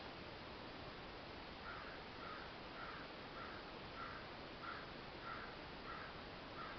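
A crow caws repeatedly at an even pace, roughly every half second to second, fairly distant and faint beneath a steady, loud broadband hiss like wind or a noisy outdoor recording.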